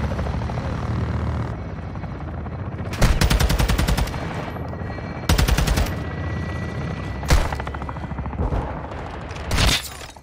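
Bursts of rapid automatic gunfire in Call of Duty: Modern Warfare II, several loud volleys ringing out over the constant thrum of a helicopter.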